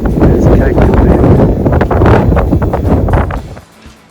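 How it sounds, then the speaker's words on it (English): Steady gusty wind roaring across the microphone, broadband rumble throughout with voices talking underneath, easing off near the end. "windy today once again"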